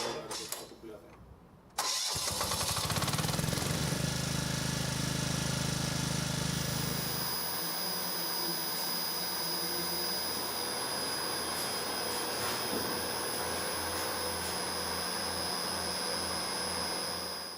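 Backup generator at an all-electric apartment building starts abruptly and then runs with a loud, steady drone and a high whine, continuing without a break, while a voice speaks faintly underneath.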